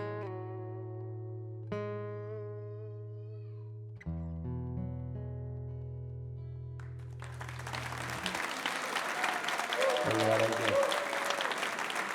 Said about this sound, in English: Another round of applause for Tanner Bingaman